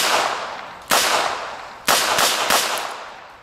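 A Smith & Wesson firearm shot at splattering zombie targets: four loud, sharp gunshots, each with a ringing decay, spaced irregularly with two close together near the end, heard nearby outdoors with no talking.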